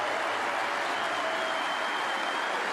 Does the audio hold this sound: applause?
yes